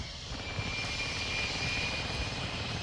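A VTOL aircraft engine in a video game drones steadily and continuously, a loud, even roar that holds for nearly three seconds with no talking over it.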